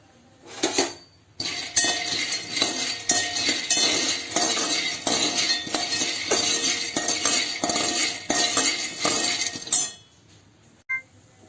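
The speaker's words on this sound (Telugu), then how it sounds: "అదే బౌల్లో పల్లీలను కూడా వేసి వేయించుకోవాలి." Peanuts tossed and stirred in a metal pan, a dense, continuous clatter and rattle of nuts against the pan lasting several seconds, close and loud, then stopping abruptly.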